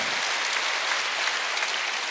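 A church congregation at a Korean Wednesday worship service claps together in a dense, continuous burst of applause that fills the hall evenly from start to finish.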